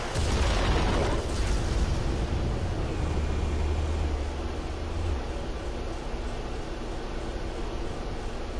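An explosive charge detonates with a loud, heavy blast at the start, then a long rumbling decay and hiss that slowly fades, without speech.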